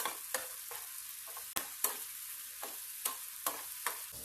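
Onions fry in a pan for a garlic pasta, with a steady soft sizzle under about a dozen sharp scrapes and clicks of a utensil stirring against the pan at an irregular pace, close and fairly quiet.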